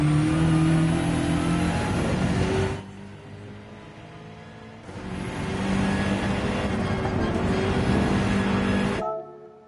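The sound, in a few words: race car engine in video game Gran Turismo 7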